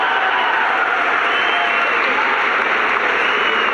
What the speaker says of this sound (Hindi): एक बार जोरदार तालियां जुबैर के लिए बजा दीजिए।